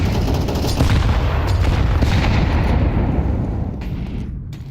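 Grenades exploding during a professional ESL Pro League Counter-Strike match: dense, loud, continuous booms and gunfire-like bursts rumble for several seconds, fading slightly at the end, with no voices.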